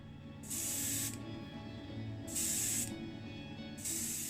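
Tamiya sky blue acrylic paint thinned 2:1 with thinner sprayed through an airbrush in three short bursts, each a sharp hiss over a quiet steady background hum.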